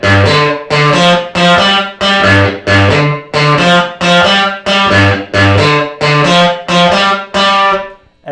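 Electric guitar plays a shuffle blues bass line in G in the style of a lesson, with a repeating boogie figure of chugging paired notes. It is loud and steady, slightly distorted, and runs about eight rounds with no talking.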